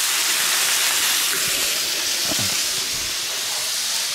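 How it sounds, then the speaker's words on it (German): Bourbon and broth hitting a hot pan on a charcoal grill, with butter in it, give off a steady, loud hiss of steam that continues evenly throughout. "ein Stückchen Butter, mit Bourbon ablöschen, mit Brühe ablöschen und dann auf den auf Holzkohle"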